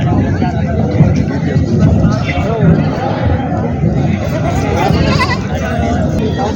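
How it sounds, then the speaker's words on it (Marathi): Goats bleat amid the crowd noise of a busy rural goat market in Purna, Maharashtra, the calls rising intermittently over a steady babble of voices. "समोर पाहू शकता तुम्ही काकाच्या 4 शेळ्या आहेत"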